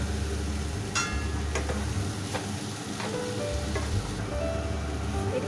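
Curry of tomatoes and boiled elephant foot yam sizzles steadily in a pan, a continuous close hiss with a few soft clinks of stirring and no voices.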